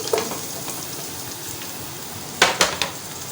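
Onions sizzle in hot ghee in a pan, a steady crackling fry throughout with a few sharper clanks of a utensil against the pot near the end.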